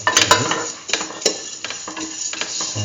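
Vermicelli pasta and peaches being sautéed and stirred in a pan, with a soft sizzle under repeated scraping and clinking of a utensil against the pan in irregular strokes, close and fairly loud.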